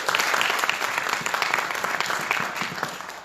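A room full of people at a senator forum applauds Pastor Cohen Lasby of Pilgrim Baptist Church, a dense, even round of clapping that holds steady throughout.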